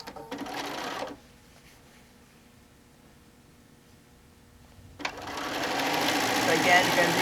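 A sewing machine stitches a quarter-inch quilt seam in quick, rapid bursts, with a close mechanical whir at the start, a pause in the middle and then a longer, steady run.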